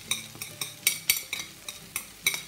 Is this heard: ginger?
yes